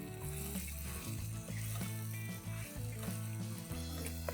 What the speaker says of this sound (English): stir fry this till the bhindi is absolutely crunchy, crispy and golden brown in color